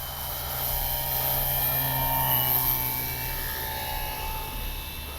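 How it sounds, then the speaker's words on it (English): Avios Grand Tundra V2 RC airplane in flight, a steady, distant high-pitched motor drone and propeller whine that swells slightly and then eases. "Beautiful plane, absolutely gorgeous plane."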